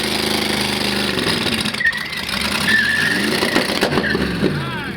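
A car with a homemade twin-turbo setup does a burnout, its engine roaring loud and close with rough, stuttering revs and tire noise, while people talk excitedly over it.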